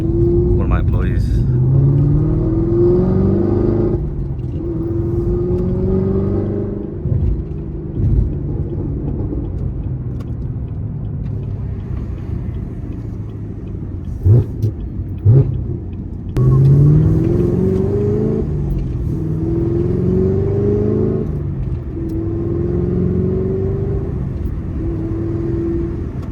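A 2019 Chevrolet Camaro ZL1 1LE with a Corsa Extreme cat-back exhaust and six-speed manual drives along, its low engine rumble rising and falling through several gear pulls, loud and steady from inside the car with occasional talk over it.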